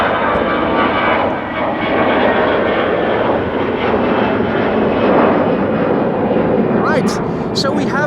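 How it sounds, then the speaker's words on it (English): Boeing 777 wide-body airliner taking off at Amsterdam Schiphol, a loud continuous jet roar rising and rumbling throughout, with a voice talking over it. "The 777 is now going."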